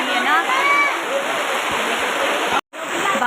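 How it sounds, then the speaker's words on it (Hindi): Heavy rain pours down outside a temple as a dense, constant rushing hiss of water, loud and close, with a brief dropout near the end. "अब इतनी तेज बारिश आ गई है ना"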